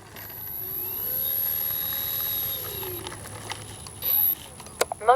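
An FMS CJ-6 RC warbird model airplane passes overhead with a steady, droning electric motor whine that swells and fades at a moderate distance, followed by louder, nearer bumps and rustling handling noises at the end.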